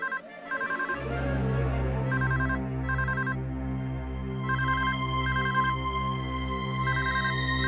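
A phone ringtone plays loudly and alone, a repeating electronic melody over a steady pulsing bass pattern, with brief trilling ring bursts recurring throughout.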